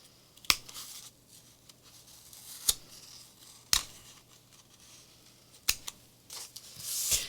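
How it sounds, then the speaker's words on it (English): Scissors make sharp, isolated snips at irregular intervals while a spirit doll is being crafted, close and crisp over a quiet room, with a brief rustle at the end. "Sometimes I use the big scissors, sometimes I use the smaller ones."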